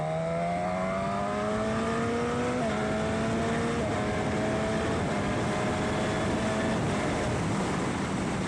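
Suzuki GSX-S1000 Katana motorcycle fitted with a Healtech quickshifter, accelerating hard and shifting into second gear, heard as a rising engine drone with steady pitch climbs and a quick step at the shift, buried under loud, constant wind roar.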